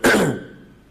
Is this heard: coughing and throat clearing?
yes